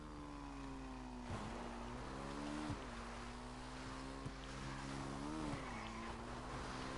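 A dirt bike engine drones steadily during a race in GTA 5, its pitch rising and dipping with throttle changes. Occasional brief thumps break the sound, and no one speaks.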